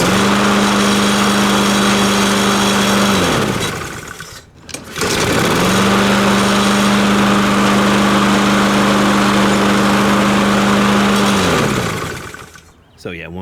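A repaired Husqvarna weedeater trimmer's small engine runs loud and close at a steady high whine, dies away briefly, then fires up again and runs for several more seconds before cutting out.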